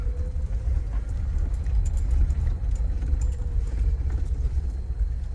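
Jeep engine crawling in four-wheel-drive low range down an off-road descent, a steady low rumble with rattling and jangling from the vehicle, continuous throughout and without talk.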